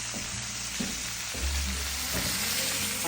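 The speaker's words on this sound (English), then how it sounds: "I have the shrimp. You can see how nice they're browning." Shrimp browning in a hot frying pan give off a steady, loud, close sizzle with a few soft stirring scrapes and no voices.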